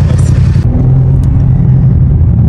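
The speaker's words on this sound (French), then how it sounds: "de l'extérieur ça pète hyper fort" A BMW car idles loudly from outside with a steady low exhaust rumble, a sharper burst at the start dropping into continuous deep engine drone, with no talk.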